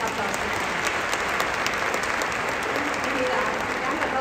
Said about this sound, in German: Das ist auch ein Applaus